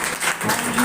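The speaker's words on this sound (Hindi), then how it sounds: "जोर से उसका ताली बजाते हुए उसका धन्यवाद" Congregation at a Friday fasting prayer and worship meeting clapping loudly in thanks, a dense continuous wash of applause filling the short moment, with a voice faintly under it.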